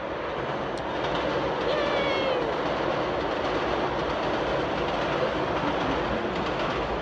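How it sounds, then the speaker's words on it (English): A train rolls past close by with a steady rumble and rhythmic wheel clatter, plus faint squeals from the wheels. "here we have the train coming"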